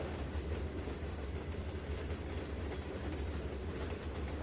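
A steady rumbling video game train in Trainz 2019 with a continuous rolling clatter, moderately loud and unchanging throughout, no voices.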